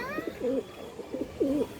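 A silver pigeon coos several times close up, soft low rolling calls over faint background noise.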